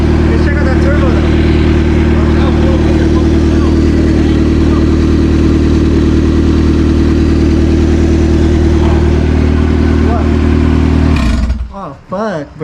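A Honda B20 VTEC engine fitted with an eBay turbo kit runs loud and steady with a deep droning hum, close by, until it cuts off near the end; people talk over it.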